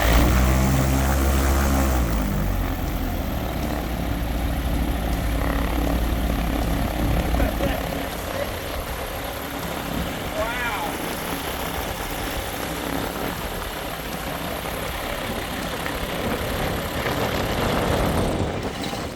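Rotax engine of an abandoned flying boat running steadily after carburetor tuning, a loud, even propeller drone sustained throughout, close by, with a brief rev change near the start and end.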